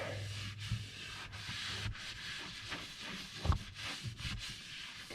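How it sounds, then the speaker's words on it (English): Scrubbing a grimy metal seat plate from an air ride low ride seat with foaming all-purpose cleaner, a faint, continuous hissy rubbing with small irregular scuffs, quiet and close, no talking. "use some all-purpose cleaner and clean this plate"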